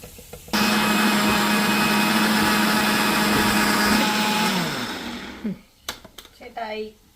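A mixer grinder grinding coconut whirs loudly and steadily for several seconds, then winds down and stops, followed by a few clicks and brief talk.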